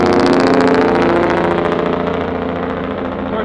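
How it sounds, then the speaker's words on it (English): A truck's engine braking near a desert scenic overlook by Lake Mead: a loud, rapid staccato engine rumble that holds steady and then slowly fades as it moves away. "I catch it right as the truck's doing its engine braking"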